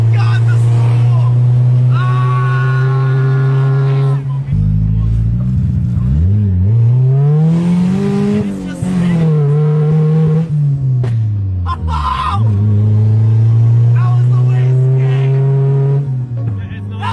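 A car fitted with a new turbo kit revs loudly and repeatedly, engine pitch climbing and falling in long sweeps with whooshing turbo spool, close to the microphone, with people talking excitedly over it.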